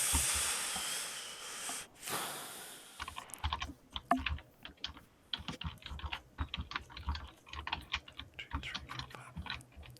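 Close, quick typing on a computer keyboard: a short hiss first, then a steady patter of soft key clicks with irregular rhythm that continues to the end, with no speech.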